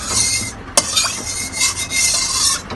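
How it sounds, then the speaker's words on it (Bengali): Oil being spread around a heated wok (kadai) for Bengali egg paturi, heard as continuous scraping and rubbing of a utensil against the metal, close and fairly loud, with one sharp knock early on. "কড়াই চারিদিকে একটু তেল টেল লাগিয়ে দেবো,"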